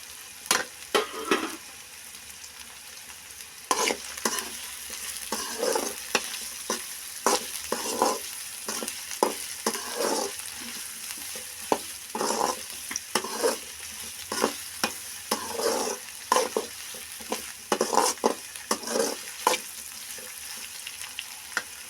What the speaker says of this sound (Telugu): తర్వాత తుంపు పెట్టుకున్న ఎండుమిరపకాయలు వేసుకుందామండి